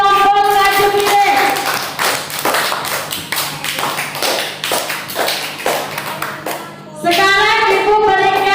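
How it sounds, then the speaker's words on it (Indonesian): A classroom group receives applause from students after presenting on plant benefits, with dense clapping that fills most of the clip and voices in between. "Tepuk tangan dulu untuk kelompok Kajupire."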